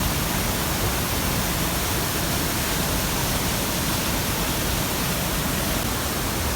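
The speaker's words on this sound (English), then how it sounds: "Waterfall numero 4." A waterfall in the Brecon Beacons, Wales, pours with a loud, constant broadband roar, dense and unbroken throughout, with no voices over it.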